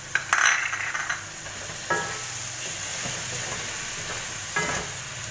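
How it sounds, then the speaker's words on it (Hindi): Ground fennel and coriander are stirred into garlic and beef frying in a pot for pulao, giving a steady sizzle with a few spoon scrapes and clinks and no talking. "अभी इसमें ये वाला मसाला जाएगा, वो सौंफ और साबुत धनिया जो पिसा हुआ।"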